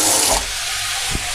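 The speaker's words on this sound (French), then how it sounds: "vous allez juste rajouter" A short splash of water is poured into a pan while cooking Korean-style spicy pork belly, a brief burst of pouring that fades into a quiet hiss.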